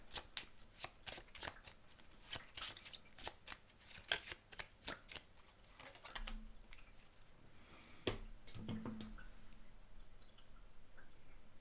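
Tarot cards shuffled by hand for a card reading, a quick run of crisp riffling flutters and soft slaps close by that turns into a steadier, denser shuffle in the second half.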